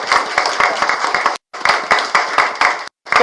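Audience at a Korean political press conference clapping briefly in quick bursts, several close hand claps forming short rounds broken by two abrupt silences.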